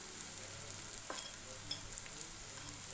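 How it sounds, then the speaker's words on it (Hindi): Onion and ground spices such as red chilli, coriander powder, garam masala and turmeric frying for Rajasthani dal, a soft steady sizzle with faint stirring scrapes, close and alone without talk. "अच्छी तरह से हम भून लेते हैं मसाले को।"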